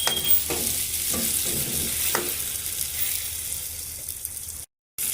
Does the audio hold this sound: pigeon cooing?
no